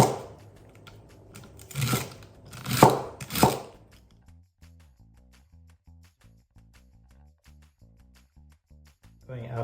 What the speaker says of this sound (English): Now I'm going to cut celery.